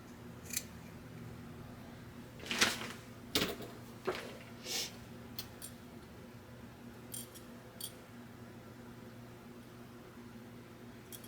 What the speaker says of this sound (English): I'm just going to trim some of that off right there.